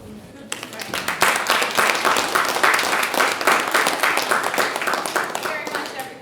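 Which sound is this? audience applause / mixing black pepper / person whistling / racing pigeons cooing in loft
audience applause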